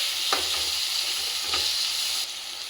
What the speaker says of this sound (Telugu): ఇప్పుడు మనం టమాటోస్ యాడ్ చేద్దాం. ఇవి కొంచెం మెత్తపడాలి.